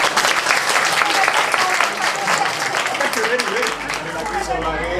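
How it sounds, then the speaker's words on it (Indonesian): A crowd gathered for a morning Indonesian community event claps steadily together, dense and continuous, with voices talking beneath the applause. "Tepuk tangan."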